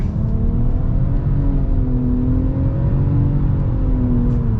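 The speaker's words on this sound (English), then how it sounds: "Turbocharged engine does good at elevation." Turbocharged engine of a 2023 Nissan Rogue Platinum accelerating at elevation, a loud, steady drone with rising harmonic tones as revs climb, heard from inside the cabin with no talking.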